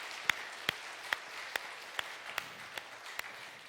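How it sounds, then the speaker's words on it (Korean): A church congregation claps in a slow, steady unison beat, roughly two claps a second, soft and somewhat distant, over a faint hum of the room. "박수로 격려하겠습니다"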